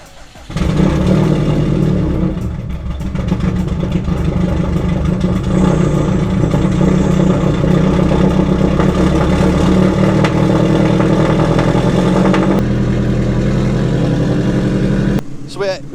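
Import car engine burning 80% ethanol fuel starts and settles into a steady, loud running idle that continues for most of the stretch before cutting off near the end.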